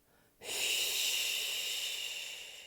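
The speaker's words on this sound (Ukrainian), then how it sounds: "опускаємось, видихаємо зі звуком щі" A single long, steady exhale forced through the teeth as a breathy 'shchi' hiss during a yoga movement, starting abruptly and fading slightly near the end, close and alone.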